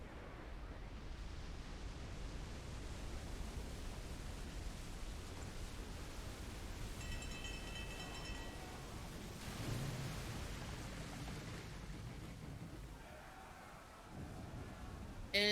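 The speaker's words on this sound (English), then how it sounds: "This is a storm." A stormy sea in Assassin's Creed 3: steady rain and roaring wind-driven noise with low rumbles of thunder rolling through, heard alone without talk.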